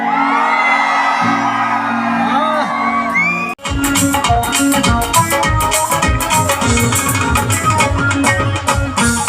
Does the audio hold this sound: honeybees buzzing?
no